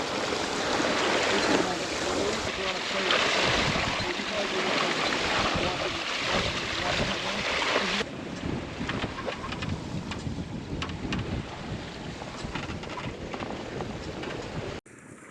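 Sailboat under sail at about four knots in nine to ten knots of wind, with continuous close wind buffeting on the microphone over rushing water along the hull, the wind easing slightly partway through.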